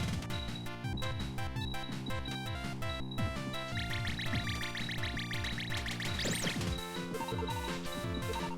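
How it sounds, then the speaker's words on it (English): Rapid bubbly blips and splashy effects from the video game Cave Story, continuous and fairly loud over busy chiptune-style background music. "I hope you like bubble sounds."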